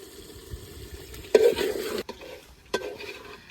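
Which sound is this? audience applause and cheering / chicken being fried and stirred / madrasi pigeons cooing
chicken being fried and stirred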